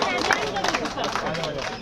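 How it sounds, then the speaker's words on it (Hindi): A crowd at a political campaign gathering applauds to welcome candidate Arvind Sharma, a steady, dense wash of clapping and murmuring voices mixed with a speaker talking over it. "एक बार तालियों के साथ स्वागत सभी"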